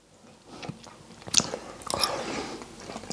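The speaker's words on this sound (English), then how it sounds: "The pork chop is meaty, it's still tender and juicy, absolutely delicious." A person eating a tender, juicy pork chop with gravy and potatoes, soft close-up chewing and a few bites with faint moist crunches, quiet and with no talking.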